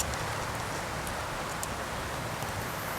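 Rain falls outside in a steady, even hiss that fills the whole stretch without letting up, with no voices over it.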